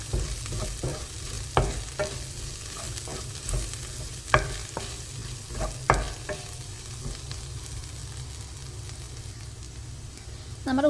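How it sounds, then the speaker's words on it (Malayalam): Onion with a couple of sprigs of curry leaves and salt sautés in a pan for a prawn roast, giving a soft steady sizzle broken by repeated scraping stirs of a spatula, with no talking. "നമ്മുടെ ഉള്ളി ഇവിടെ ഏകദേശം ഒന്ന് വഴന്ന് വന്നിട്ടുണ്ട്"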